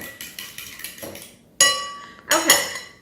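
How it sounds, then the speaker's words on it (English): A fork whisks egg and buttermilk together in a bowl for cornbread, with light rapid tapping followed by a few louder, ringing clinks against the dish, heard close up. "I'm just going to whisk it a little bit with a fork to mix it together"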